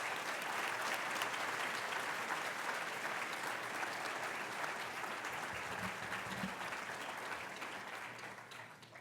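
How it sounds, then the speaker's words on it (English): A gala crowd honoring Marion County public school teachers at the Golden Apple awards claps in a sustained, even wash, heard at a distance and easing off gradually toward the close. "it's time to give an extra round of applause to these teachers"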